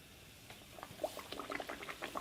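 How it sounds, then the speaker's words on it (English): Sopapilla dough frying in hot oil gives soft, quiet bubbling and crackling pops, irregular and scattered, growing slightly busier toward the end. "when you're frying multiple sopapillas, definitely count about 10 seconds in between before you add the next one"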